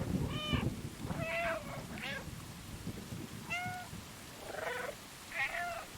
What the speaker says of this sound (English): These sounds, these cute, adorable meow chirps, these are only for us.